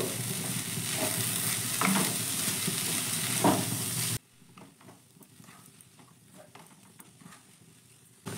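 A spiced atta-based filling with cumin powder is stirred in a hot pan, loud sizzling with spoon scrapes that abruptly drops to a faint, quiet crackle halfway through, with no voices.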